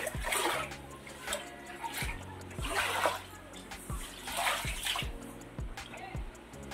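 Floodwater inside a village house during monsoon flooding, water sloshing and splashing with repeated wading steps, close and continuous, with no talk.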